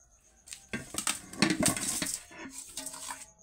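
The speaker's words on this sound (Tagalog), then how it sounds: "dahil sa naparami yung aking crushed ice, dito ko na lang ilalagay sa mas malaking kaserola" Crushed ice for chocolate ice scramble tumbles and clatters into a large metal pot, a rattling, crunching pour lasting a few seconds.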